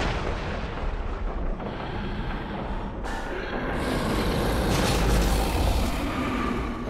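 In the horror rail-shooter game Until Dawn: Rush of Blood, loud gunfire and heavy blasts blend into a dense, continuous roar with no pauses, filling the whole clip without talk.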